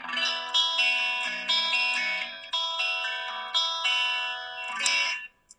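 Clean electric guitar played through a Fender Deluxe Reverb Tone Master amp, with a pedalboard in the chain: sustained chords and ringing notes, close and steady, with light chorus shimmer and reverb tails before a sudden stop.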